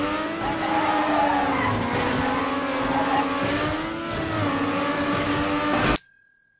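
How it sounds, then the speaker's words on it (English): Race car drifting in the TrackMania video game, a continuous engine drone with tire squeal as the car slides through a turn, loud and close, cutting off abruptly near the end. "tap the brake quickly to extend the drift so that you get the angle to go through the next turn"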